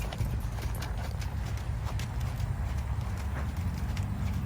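Hooves of the horse Vicar clip-clop in a steady walking rhythm on a loose rein, close and clear over a low background rumble, with no voices.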